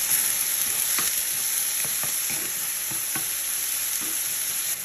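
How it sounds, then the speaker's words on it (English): Onions and tomato cooking down in a pan, a constant bright sizzle close by with faint scrapes of stirring through it, steady from start to finish without voices. "So the onions cook and the tomato begins to break down."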